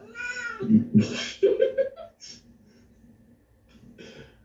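A cat meows several times close by, drawn-out whiny cries over the first couple of seconds with a softer one near the end, in a quiet room.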